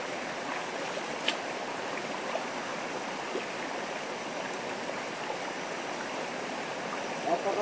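A river flows steadily in a mountain setting where people bathe, a continuous broadband rush of water running close and even throughout, with a few brief splashes near the end.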